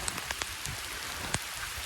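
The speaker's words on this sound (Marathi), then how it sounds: "भर पावसात कोकणातला सर्वात पहिला पाऊस" Heavy monsoon downpour, the first rain of the season in a Konkan village, makes a steady, dense hiss of rain on surfaces with a few sharper drop taps, loud and close, with no voices.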